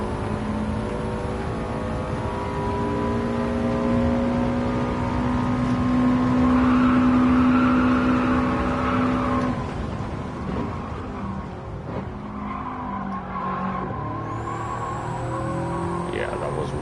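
A Subaru Impreza engine in Gran Turismo 7 drones steadily and rises in pitch, then drops at an upshift and climbs again, heard continuously beneath a talking player.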